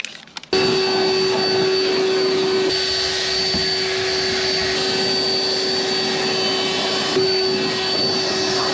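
A vacuum cleaner drones steadily while cleaning out a car interior, loud and close, with a steady whine throughout after a brief start and no voices.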